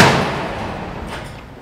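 Kicking robot striking the 2022 World Cup football in a test lab, one sharp loud impact that fades into a short echoing tail, with no talk.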